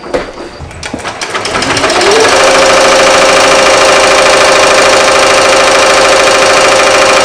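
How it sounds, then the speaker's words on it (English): A Ricoma MT1501 embroidery machine stitching a varsity youth jacket at about 900 stitches per minute starts up and settles into a loud, steady, rapid mechanical whir and clatter, with no voices over it. "900 stitches per minute on the Ricoma MT1501."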